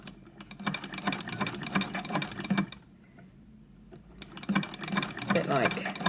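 A sewing machine with a ruffler attachment stitches fabric into ruffles in rapid mechanical bursts, pausing briefly midway before running again, close and fairly loud.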